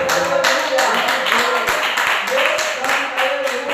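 A church congregation claps steadily through the whole stretch, a dense, even patter of many hands with a voice carrying over it.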